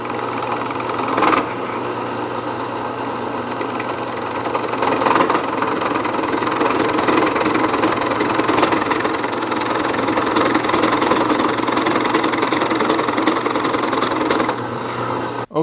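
A router bit chucked in a drill press spins steadily while cutting red oak, a continuous loud mechanical whir with rough grinding texture running throughout, with a brief sharper burst near the start.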